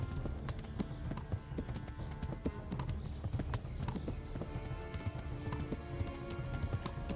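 Horse hooves clip-clop at a gallop in the video game Kingdom Come: Deliverance, in a fast, steady rhythm, close and clear, with faint background ambience.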